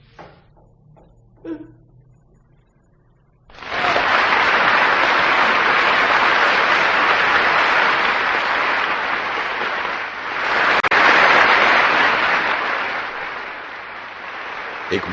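A theatre audience bursts into loud, sustained applause after a couple of faint knocks, the dense clapping swelling again near the end and carrying on without pause.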